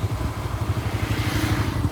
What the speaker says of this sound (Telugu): ట్రాక్టర్లు, కార్లు, ఆటోలు, బళ్ళు తెగ వచ్చేస్తున్నాయి చూడండి